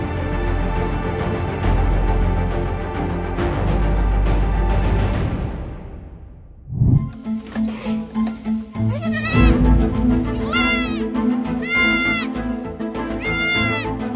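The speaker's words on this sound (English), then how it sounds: "There are 2 newborn baby goats." Two newborn baby goats in a goat barn bleat repeatedly in short, high, wavering cries, close and clear, following a stretch of music that fades out.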